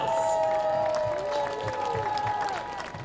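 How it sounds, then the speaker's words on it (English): Crowd at an Oakland Ballers baseball game, about 1,500 fans, applauding and cheering in a steady wash of claps and shouts. Tonal whistles or horn-like tones ring over it, and the noise fades slightly toward the end. "Give yourselves a round of applause."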